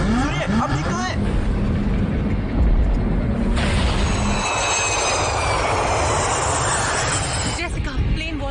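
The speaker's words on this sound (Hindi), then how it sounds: "प्लेन वोल्केनिक ऐश क्लाउड से गुजर रहा है।" Steady, loud jet engine roar from an airliner in flight through a volcanic ash cloud, a broad continuous rush that shifts in tone partway through, with faint voices mixed in.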